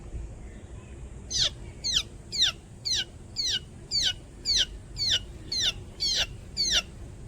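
A high, repeated peeping call of a baby chick imitated by a voice, about ten short chirps in a steady rhythm, clear and close over a low background hum.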